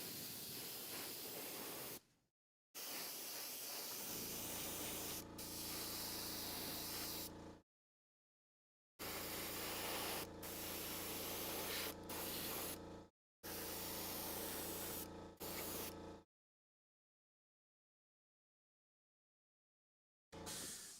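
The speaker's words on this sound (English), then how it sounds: "anything you can do with the airbrush at the beginning is worthwhile" An airbrush sprays paint in several bursts of steady, close hiss, each lasting a few seconds and separated by brief silent pauses.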